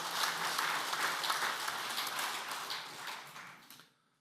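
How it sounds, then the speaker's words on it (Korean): A congregation at a church men's association officers' prayer meeting applauds the pastor in thanks, a dense, steady wash of many hands clapping that holds for several seconds and then quickly fades to silence. "은혜로운 말씀을 전해주신 목사님께 감사의 박수 드리겠습니다"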